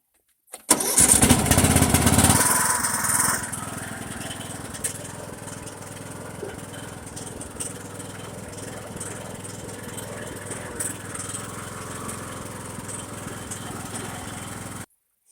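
A Mastercraft riding lawn mower engine starts up on fresh gas with a loud, close burst of cranking and catching, then settles into a steady running idle for the rest of the clip.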